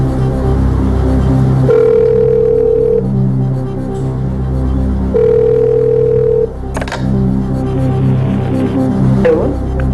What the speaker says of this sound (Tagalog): Tawagan natin si Angela.